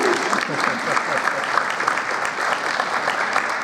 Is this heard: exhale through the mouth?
no